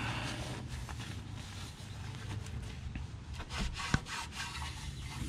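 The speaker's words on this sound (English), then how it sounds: "The oil filter, I'm gonna wipe off some of the dust before we start trying to work on taking that off." Rubbing and wiping on the oil filter of a 2018 Mazda3 2.0L to clear off dust, a dry scraping and brushing sound in irregular strokes close by, with a sharp click partway through.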